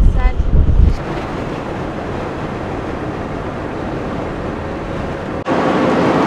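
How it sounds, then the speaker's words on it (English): Strong Patagonian wind buffets a car on an empty back road, a steady loud roar of gusts and wind noise against the vehicle, with a heavier rumbling burst at the start and a brief dip near the end. "The wind in Patagonia is so insane. I have to fight with the wind right now with the steering wheel."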